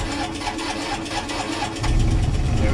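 A diesel engine on a refrigerated trailer reefer unit turns over and catches, a steady mid-pitched mechanical run that jumps into a louder, deeper rumble near the end of the clip.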